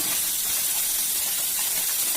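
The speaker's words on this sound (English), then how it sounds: "So now I'll add Maggi to boiling water" Maggi noodles dropped into a pot of boiling water, giving a loud, steady close hiss of steam and bubbling throughout, with no talk.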